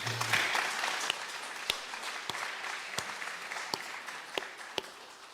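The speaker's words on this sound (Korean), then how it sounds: "감사 박수 한번 쳐야 되겠습니까?" A church congregation applauds during a Sunday morning service, steady clapping at moderate volume with a few louder individual claps standing out, gradually thinning toward the end.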